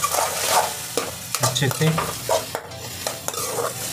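A spoon stirs and scrapes masala in a frying pan for dhaba-style gobi masala, with a steady sizzle under irregular stirring strokes and a brief voice.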